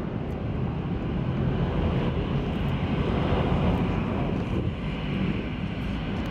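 Lufthansa Airbus A340-300 airliner at Atlanta airport, heard as a loud, continuous broadband jet roar mixed with wind buffeting the microphone, holding steady throughout with no talking.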